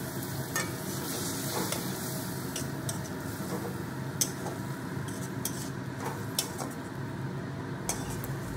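Green tomato curry with spices sautéing in oil on a very low flame, a steady soft sizzle broken by light clinks and scrapes of a spoon against the pan, no talking.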